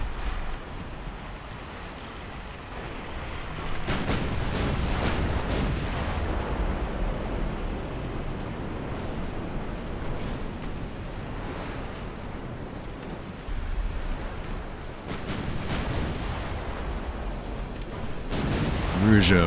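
7-inch naval guns firing in the game Ultimate Admiral: Dreadnoughts, with Italian warships of 1890 under a wash of ocean surf and wind; several booming salvos stand out at irregular intervals.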